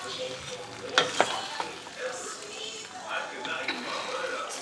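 Cheese being stirred into pasta in a pot on an electric stove makes a soft, sticky squelching and scraping sound with a couple of utensil taps and a faint sizzle. A person talks over it.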